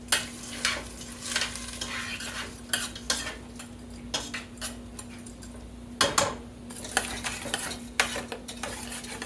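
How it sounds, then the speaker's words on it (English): Vegetables sauteing in a pan on the stove for a creamy Mexican soup, with steady soft sizzling, a low constant hum, and repeated close clinks and scrapes of a utensil stirring against the pan. "And we're going to get these sauteed up."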